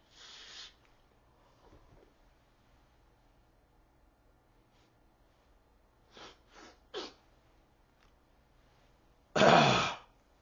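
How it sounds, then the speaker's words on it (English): A person sneezes after snorting a pinch of Kentucky bourbon tobacco snuff, with a short burst at the start, a few soft snorts and throat sounds, then one loud close sneeze near the end. "They're sneezing coming."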